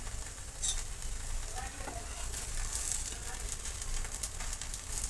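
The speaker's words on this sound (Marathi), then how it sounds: "थोडंसं वरतून आणखी थोडंसं तूप लावून घेणार आहे तर छान असा करपूस भाजून घ्यायचा याला" Rava (semolina) uttapam frying in ghee on a hot pan after being flipped, giving a steady, even crackling sizzle with brief brighter spits, close and moderately loud, with no voices.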